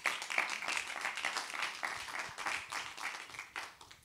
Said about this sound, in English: a round of applause for the technology, everybody